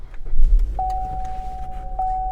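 A 2017 Buick Encore starts up close by with a low rumbling crank that settles into a quieter idle, while steady electronic chime tones ring out over it.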